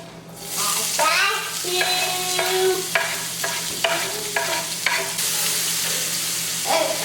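Onions sizzling in oil in a pan, a steady loud frying hiss with stirring and clinks of a utensil, and voices talking over it at times.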